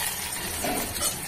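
Whole cumin seeds hitting hot oil in a pan, a close, steady hissing sizzle across a brief moment, with a small clink at the end.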